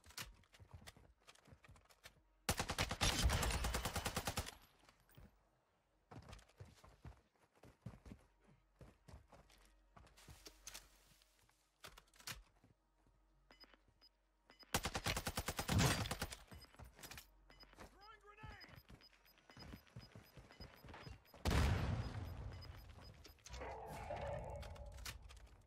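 TAQ-V assault rifle firing in Warzone 2, several loud sustained automatic bursts separated by quieter stretches of scattered clicks, footsteps and distant shots, with no talking.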